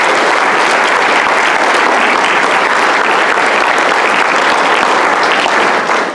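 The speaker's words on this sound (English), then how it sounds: "let's give him a big round of applause as he retires." Loud, dense applause from a large audience at a teacher awards banquet, sustained evenly throughout before tapering slightly at the very end.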